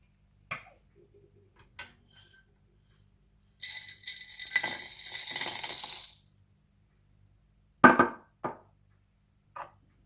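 Spice masala for dahi baray whirring briefly in a coffee grinder, a burst of a couple of seconds amid scattered clicks and knocks of handling, close and fairly loud.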